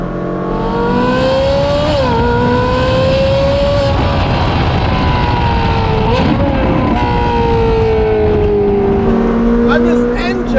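Ferrari 458 Speciale V8 fitted with a Novitec exhaust, a loud, steady engine note with rising and falling pitch as it revs through gears, sounding close throughout with a person talking over it.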